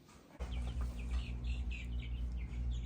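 Young chicks peep and chirp in quick, high bursts as they are moved out to a chicken house on a rural Montana property, over a constant low mechanical hum.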